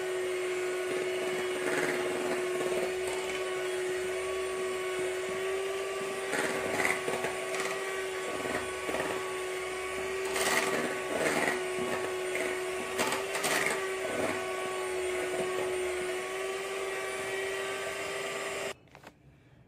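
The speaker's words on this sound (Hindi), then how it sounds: "तो इसे हम एक बार फिर से मिक्स भी कर लेंगे और ब्लेंड भी कर लेंगे।" An electric blender whirs steadily while mixing homemade chocolate ice cream, a loud, continuous motor drone with a rough, churning edge that runs for nearly twenty seconds before cutting off abruptly.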